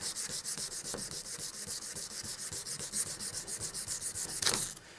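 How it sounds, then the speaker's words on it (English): Steady back-and-forth rasping of a hard-backed 220-grit sanding stick on a Damascus steel chef's knife blade, lubricated with Simple Green, rapid rhythmic strokes repeating close up, with no talking. "I use the hard back sanding stick first with the 220"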